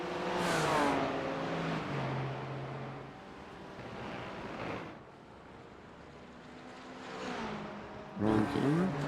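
BMW race cars at Misano World Circuit in a racing video game, their engines droning and revving with rising and falling pitch, with a louder car sweeping past at the end.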